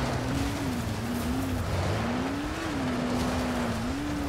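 Car engine from the video game Dying Light The Following, a steady droning hum with slight pitch rises as the vehicle drives on, continuous and fairly loud throughout with no talking.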